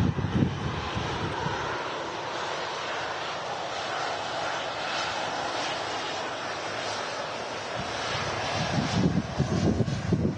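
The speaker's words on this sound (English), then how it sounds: "No stress getting down for that EasyJet A320." An EasyJet Airbus A320 lands at Manchester Airport in a storm, its engines a loud continuous roar mixed with gusting wind noise on the microphone, swelling again toward the end.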